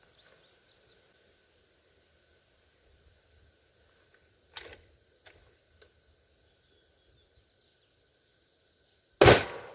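A single sharp, loud rifle shot from a .30-06 firing a 150-grain Remington Core-Lokt bullet into ballistic gel, coming abruptly at the end after quiet outdoor ambience with a few faint clicks and bird chirps.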